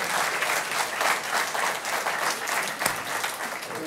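A studio audience claps at a Lithuanian talk show, dense steady applause lasting a few seconds without pause, fairly close and full.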